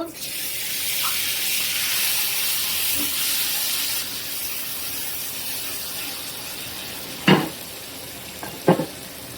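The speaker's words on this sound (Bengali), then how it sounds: "পেঁয়াজ ভাজা হয়ে গেছে এখন টমাটো দিয়ে দিব" Onions and tomatoes sizzle steadily in a pan for a tengra fish curry, a continuous broadband frying hiss with a couple of sharper clatters near the end.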